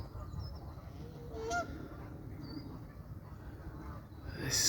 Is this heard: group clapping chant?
no